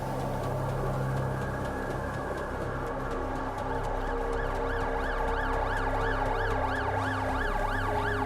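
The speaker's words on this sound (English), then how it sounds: "Ambulance." An ambulance siren wails amid steady road and engine noise, its rising-and-falling warble becoming clearer and louder from midway as it approaches, alone without voices.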